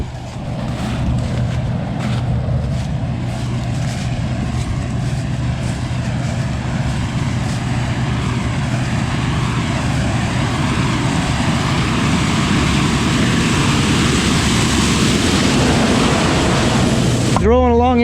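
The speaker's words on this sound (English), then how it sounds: "I'll shut up so that way you guys can hear the combine and me walking through the stocks" A combine harvester with a Cummins engine runs in a field, a loud, steady mechanical drone and rumble with rustling crop stalks, close and continuous throughout.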